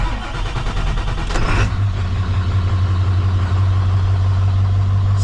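A diesel pickup truck engine cranking after its glow plugs warm up, a short grinding crank that catches and settles into a loud, steady low idle rumble close by.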